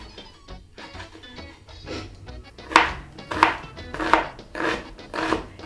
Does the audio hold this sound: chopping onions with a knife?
yes